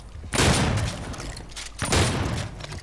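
Two loud, close shotgun blasts go off about one and a half seconds apart in DOOM multiplayer, each a sharp broad boom with a decaying tail, with no speech over them.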